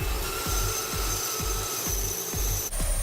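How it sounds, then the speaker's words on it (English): Bandsaw cutting a piece of pecan wood, a steady motor whine with a repeating low pulsing thrum roughly every half second as the blade works through, close and continuous. "take it over to the bandsaw"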